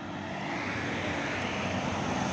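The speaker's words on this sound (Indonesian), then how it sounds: "Dan di belakangnya ada pesawat merah." A propeller airplane drones steadily overhead, a broad, continuous engine roar that sounds fairly near and holds its level throughout.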